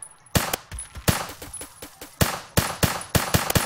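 Video game gunfire rattles in quick bursts of sharp, loud shots, spaced irregularly, with brief pauses between volleys.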